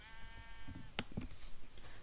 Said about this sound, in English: Oh, is that a sheep?